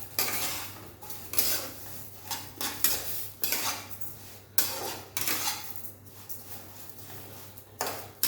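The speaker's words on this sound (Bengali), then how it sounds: "কেটে সিমাইয়ের সাথে দিয়ে দিচ্ছি, ভেজে একবারে নেবো" Vermicelli frying in a pan with chopped cashews and almonds for a sweet payesh, with repeated clanks and scrapes of a spoon stirring against the pan, close and fairly loud.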